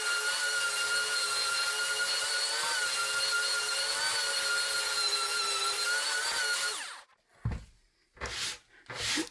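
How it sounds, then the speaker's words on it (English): A power sander runs with a loud, steady whine for about seven seconds, lightly going over the top face of a pallet board with 80 grit sandpaper, then cuts off, followed by a few short bumps and rustles. "After you have your edges sanded, all you have to do is do the top, and just do it lightly."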